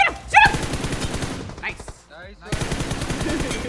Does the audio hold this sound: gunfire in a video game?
yes